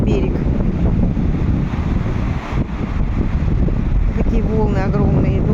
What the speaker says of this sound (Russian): Такие волны огромные идут.